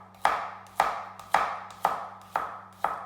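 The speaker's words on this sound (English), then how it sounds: "But we want nice slices of garlic." A knife slices through fresh garlic cloves on a cutting board, six sharp, evenly spaced cuts about half a second apart, close and clear over a faint steady hum.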